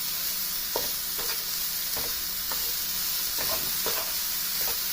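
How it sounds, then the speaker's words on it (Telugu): A spoon scrapes and stirs through a carrot and sugar mixture in a pan over a low flame, making repeated soft scraping strokes over a continuous gentle sizzle. "ఇలా లో ఫ్లేమ్లో పెట్టుకొని మనము కలుపుకుంటూ ఉండాలన్నమాట"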